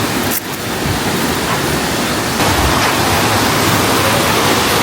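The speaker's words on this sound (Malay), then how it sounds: "Air terjun Teladas nama dia." Teladas waterfall and river near Maran, a loud, dense broadband roar of falling and rushing water filling the whole clip, constant and close, with no voices.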